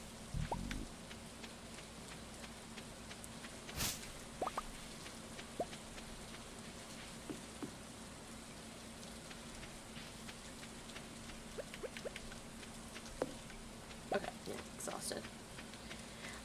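Steady rain in Stardew Valley hisses softly throughout, with scattered drip-like ticks and a faint low hum underneath, quiet and continuous with no talking.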